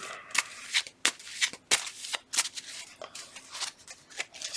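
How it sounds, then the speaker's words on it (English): A deck of baseball player cards is riffled and shuffled by hand in quick bursts, each crisp flutter close and distinct with short pauses between. "Gonna shuffle them up."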